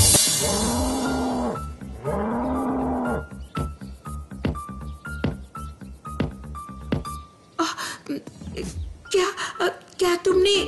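A bear in an animated kids' moral story growls and roars in two long rumbling calls, followed by sharp clattering hits and scattered effects.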